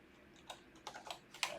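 A few sharp key taps on a computer keyboard, spaced irregularly and fairly quiet, with nothing else audible around them.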